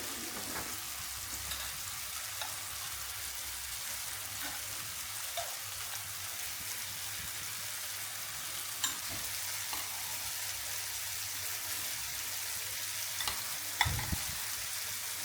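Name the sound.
mixing cheese and mayonnaise while mushrooms fry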